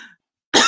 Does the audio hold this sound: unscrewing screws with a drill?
no